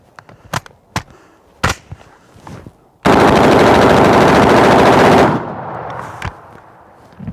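AR-15 rifle firing a sustained full-auto burst during a meltdown test as the barrel overheats and cooks off, loud and continuous for about two seconds, preceded by scattered single shots and followed by a fading ring and a few more pops.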